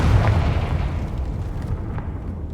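Confringo spell blast in the video game Hogwarts Legacy, a loud, low rumbling explosion that booms at once and then rolls on as a sustained roar for a couple of seconds.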